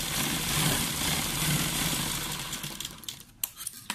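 A sewing machine stitches a button cuff sleeve, running in a steady fast whirring rattle up close, then slowing into a few separate stitches and clicks near the end.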